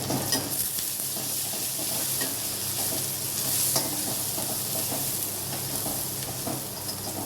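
Chili powder being stirred into ivy gourd frying in a pan, a steady close sizzle with scraping spoon strokes and a hiss throughout.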